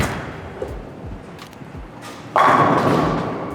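A bowling ball thrown down the lane: a soft thud on release, then a loud rolling rumble that builds and carries on steadily to the end.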